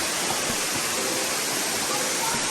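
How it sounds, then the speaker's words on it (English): A small waterfall gives a steady, dense rush of falling water that fills the whole clip, loud and close, with no pauses. "That's that waterfall, boy."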